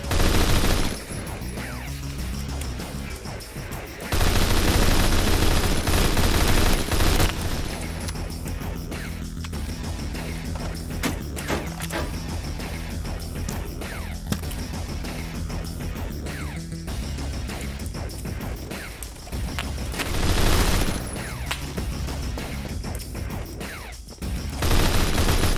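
Rapid automatic gunfire from a gun in a video game, dense bursts of loud close shots with short gaps and a few heavier impacts, continuing through most of the stretch.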